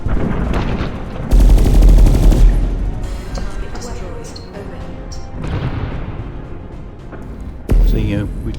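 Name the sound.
space battle gunfire in video game SpaceBourne 2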